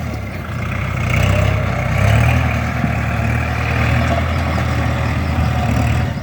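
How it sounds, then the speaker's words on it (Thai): A Kubota L5018 tractor engine rumbles close by while ploughing a rice field, a loud low drone that swells slightly and holds steady throughout. "รถไถหน้าครับ รถไถหน้า"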